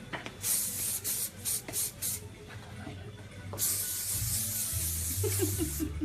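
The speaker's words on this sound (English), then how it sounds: "let's just do the finish now with the spray" Several short bursts of aerosol hairspray hiss in quick succession while finishing a layered bob haircut, then one longer continuous spray, close up, with a faint low hum underneath.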